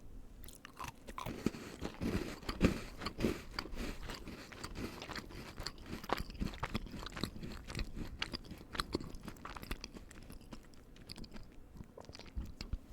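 Close, soft chewing of a chocolate-centred cookie with a foamy, tender crumb around a firm chocolate middle, steady moist bites and mastication running throughout, quiet and intimate with no talking.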